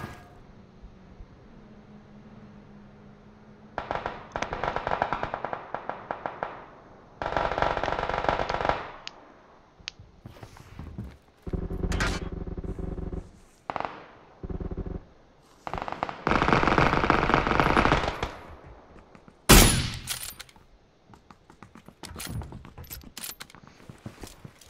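Gunfire rattles through a battle royale video game: several bursts of automatic fire over about twenty-five seconds, separated by short gaps, with one sharp, louder shot near the end.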